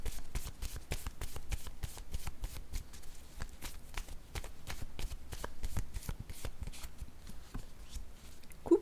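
A deck of tarot cards is shuffled in a steady run of crisp, close riffles and snaps repeating rapidly throughout, with no talk.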